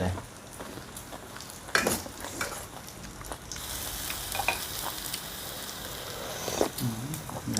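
Fatty pork sizzles on a Thai barbecue grill, a steady close frying hiss with occasional utensil clinks and brief bursts, plus faint voices in the background.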